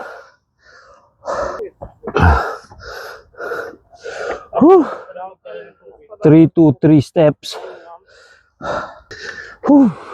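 Heavy, gasping breaths after climbing 323 steps up to a mountain viewpoint above Alesund, coming in short bursts between stretches of breathless talk.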